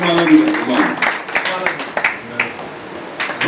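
A crowd at a community awareness meeting claps in welcome, the scattered clapping running under and between voices talking over it.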